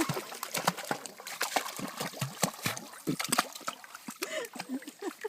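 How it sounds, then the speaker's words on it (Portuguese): A dog splashes and plays in the water of a stream, making irregular close splashes and slaps with trickling in between, while people talk over it. "Ele tá brincando com a água. Tá brigando com a água"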